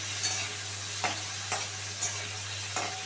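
Prawns marinated in salt and turmeric fry in a pan with a soft, steady sizzle, punctuated by a few periodic stirring scrapes; no one speaks.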